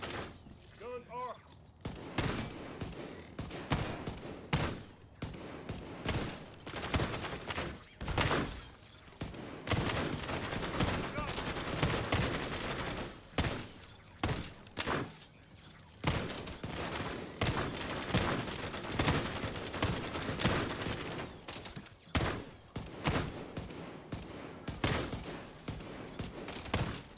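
Gunfire in the video game The Division 2, dense bursts of automatic fire, impacts and shattering that continue almost without a break, loud and busy, with voices talking at times.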